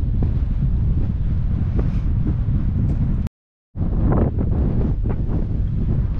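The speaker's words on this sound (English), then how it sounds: "Sorry for the noise of the wind, but it's really windy here at the moment." Strong gusting wind buffets the microphone on the coast of Almeria in southern Spain, a loud, constant roar that drops out for a moment and then returns.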